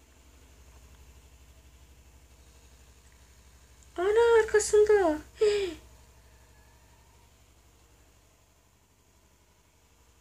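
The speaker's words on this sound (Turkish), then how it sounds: "Bunu duyuyor musun? Motosiklete de benziyor. Sahilden geliyor." A low, steady motorcycle engine drone from the video game Agent Alice hums faintly and continuously in the background, with a voice speaking briefly over it partway through.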